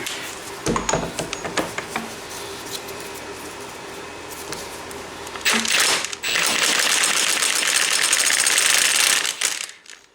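A big impact wrench works a stuck front sprocket nut on a Yamaha Raptor 700R ATV. It starts with a few short, eased-in bursts, then runs in a long, steady, loud hammering stretch before stopping.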